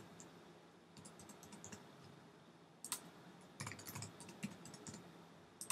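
Password typed on a computer keyboard while installing Windows 7 on a Mac: a faint, quiet run of scattered key clicks, with sparse taps first and then a denser burst of keystrokes toward the end.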